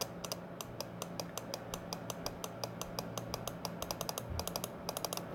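A Vex robotics part wired to a 5-volt supply clicks in a rapid, steady series of sharp ticks, close and fairly faint, with no talking over it.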